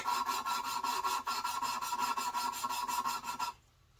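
Steady back-and-forth rasping of valve lapping compound grinding a valve on a Mopar 318 small-block cylinder head, a fast regular scrubbing rhythm close up, stopping abruptly near the end.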